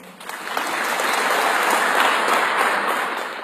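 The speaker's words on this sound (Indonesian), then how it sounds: "Bu Menteri beri tepuk tangan dong" Applause fills a hall during a speech by President Jokowi with the minister present, swelling quickly into a dense, steady clapping that holds loud and then eases slightly at the end.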